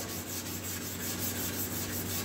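Steady, continuous abrasive rubbing of sandpaper on a hard block, with rhythmic back-and-forth strokes and a low hum underneath, during restoration of a Honda ATC90.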